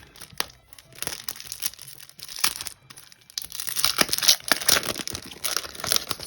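A packaged die cut set for a flowered box being opened, with plastic crinkling and tearing close by, starting with scattered rustles and growing louder and denser toward the end.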